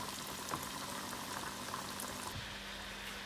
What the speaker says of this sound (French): Une fois que l'huile est assez chaude, je vais plonger mes rolls un par un.